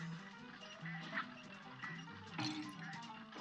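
A cartoon duck quacks in the run-and-gun video game Cuphead, a short burst sitting inside dense, busy game music and effects at moderate level.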